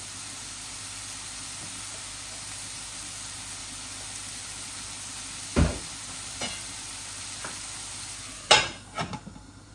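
Cleaned, shelled Bangladeshi prawns fry for a bhuna in a quiet, steady sizzle, broken by a few distinct scrapes and knocks of a spoon stirring the pan, with no voices.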